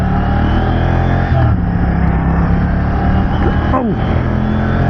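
A Moto Guzzi V100 Stelvio motorcycle rides along in Turismo touring mode, its engine a steady, loud drone with wind rush close to the rider, and a voice talks over it.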